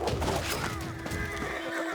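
A single loud horse whinny from the game Civilization VI, sharp and high, rising then fading over about two seconds, with a slight artificial, game-like quality.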